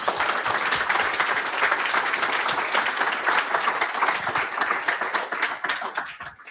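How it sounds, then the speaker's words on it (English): A conference audience gives a big round of applause after a talk on Java and generative AI, dense sustained clapping from many hands that fades slightly toward the end. "I think we can have a huge round of applause"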